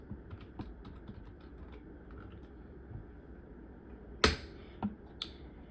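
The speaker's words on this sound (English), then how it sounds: "Go to the top of your screen and type Adonis." Scattered computer keyboard keystrokes tap lightly and faintly over a steady background hum, with a couple of sharper, louder clicks near the end.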